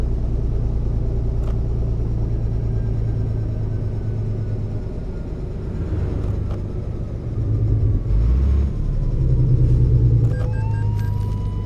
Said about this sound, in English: Well, Colin, this is to my new Zeemods engine and sound pack.